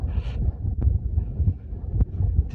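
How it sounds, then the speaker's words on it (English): Strong gusting wind on an exposed Peak District ridge buffets the microphone with loud, low rumbling roars that surge and ease in pulses throughout. "The wind's quite strong, blowing the camera about."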